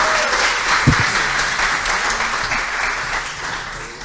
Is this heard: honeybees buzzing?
no